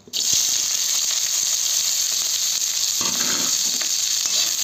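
Chopped onions and green chilies hit hot oil with a loud, steady sizzle that holds without a break, joined by a few scraping clinks near the end.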